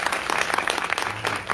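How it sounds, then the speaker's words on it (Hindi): A small group of people at a home religious gathering in a village claps hands together in steady, fairly loud applause, with no talk over it. "इनके लिए ताली बजाओ"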